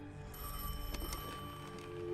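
Telephone ringing during a Destiny 2 video game cutscene, a faint brief trilling ring over a dense low background rumble, no speech.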